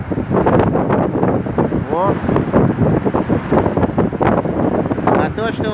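Strong storm wind buffets the microphone continuously on the Kauguri coast in Jurmala, with waves surging beneath it, loud and close throughout, while a person talks over the roar.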